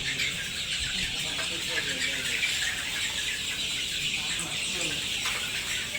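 Chickens at a poultry farm, including Egyptian Fayoumi laying hens, clucking and chirping as a dense, continuous flock chorus, with faint background murmur and no clear speech.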